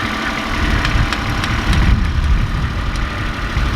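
A tractor engine runs loud and close while clearing a barnyard, a steady rough mechanical rumble with faint knocking and no talk.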